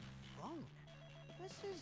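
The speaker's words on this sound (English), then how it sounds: "Pick up that phone. Pick it up." A telephone rings in the rhythm action game Hi-Fi Rush, faint trilling bursts over music and game sound, with a voice speaking alongside.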